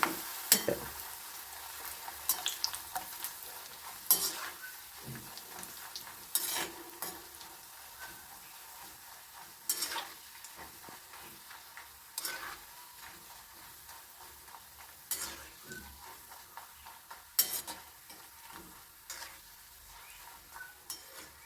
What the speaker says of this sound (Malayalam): അപ്പം നമുക്ക് നമ്മുടെ പാട വറുത്തെടുത്താലോ?